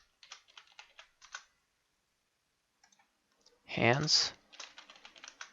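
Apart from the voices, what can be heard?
computer keyboard typing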